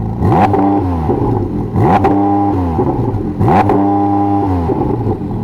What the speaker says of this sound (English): Now have a listen, go on, rev it.